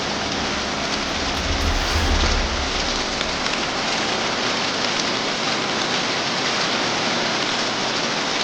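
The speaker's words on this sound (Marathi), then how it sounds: "तुम्ही बघू शकता पाऊस किती पडत आहे" Heavy unseasonal rain pours down on Dabhadi village in a dense, continuous roar, loud and unbroken throughout, with a low rumble near the start.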